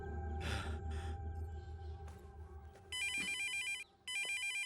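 A telephone ringing in a Malayalam film scene, two loud electronic trilling rings separated by a short pause, preceded by a brief sharp breath.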